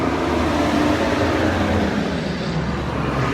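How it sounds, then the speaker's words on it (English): A big truck rolls past a roadside cemetery in Atlanta, a steady broadband roar of engine and tire noise that stays fairly loud and close throughout, with no talking. "Here comes a big truck."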